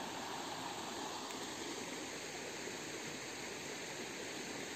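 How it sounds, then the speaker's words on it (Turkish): Constant broadband rushing of a flowing stream near Hacıllı waterfall in Şile, Turkey, steady and fairly distant, with no voices. "Hem derenin sesini dinliyorum burada."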